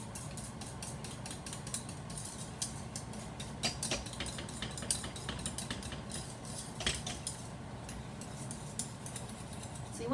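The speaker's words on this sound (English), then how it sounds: "So you want to stir it so it doesn't burn on the bottom" A spoon stirs thickening chocolate pie filling in a pot, making steady scraping and clicking strokes against the metal that continue close and unbroken with no talking.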